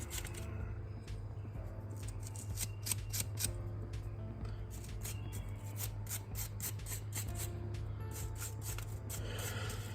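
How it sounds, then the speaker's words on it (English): Old brake dust and stiff grease being scrubbed off grimy brake parts from a Honda Prelude, a steady rasping scrape that runs continuously and close by over a low hum. "Just getting that old brake dust and stiff grease off of there."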